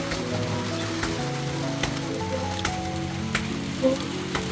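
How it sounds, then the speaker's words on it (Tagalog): Rain falls steadily at a house construction site, a constant hiss with scattered drips and taps, under a low mechanical hum and faint background noise. "Inabot na tayo ng ulan"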